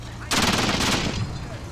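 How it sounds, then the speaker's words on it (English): A quad 20 mm flak gun in the Combat Mission Red Thunder game fires a loud, close, rapid burst of shots lasting about a second, which then cuts off into a fading rumble. "Quad flak gun, 20 mils."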